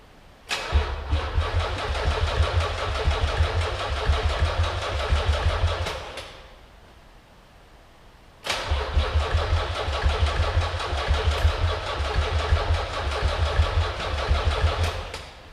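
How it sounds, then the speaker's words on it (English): An abandoned Nissan 300ZX engine cranks and catches, running rough and loud for about five seconds, falls quiet for a short pause, then fires up again and idles unevenly to the end. "I'm gonna try to fire this thing up"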